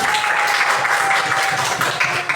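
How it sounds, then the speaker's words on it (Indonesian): Primary school pupils clapping together in a classroom after a maths lesson on cubes and cuboids, a brief, dense burst of many hands at steady loudness, a faint steady tone running beneath. "Tepuk tangan untuk kita semua"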